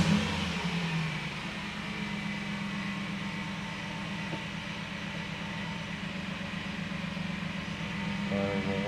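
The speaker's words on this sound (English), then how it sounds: "Firing it up." Mercedes W124 E500 Renntech V8 engine running steadily after starting, a loud continuous low rumble with a faint whine on top, heard close and alone throughout.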